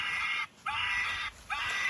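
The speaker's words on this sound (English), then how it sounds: "when it senses a bird, it screams at you. Yeah. Listen to it, it's going off" A bird-sensing deterrent device beside a fish pond emits loud, harsh electronic screeches, three sustained blasts with short gaps between them, close by.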